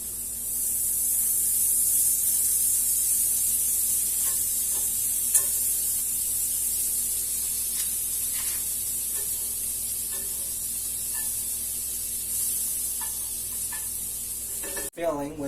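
Six teaspoons of butter melt in a pan, giving a steady soft sizzle and hiss throughout with occasional light stirring ticks and a brief knock near the end, with some talk at times.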